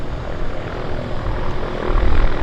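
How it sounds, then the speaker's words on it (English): Floatplane engine droning steadily at a downtown harbour airport, a broad continuous roar that grows slightly louder toward the end as the aircraft approaches, with no talking. "We've got another aircraft on approach."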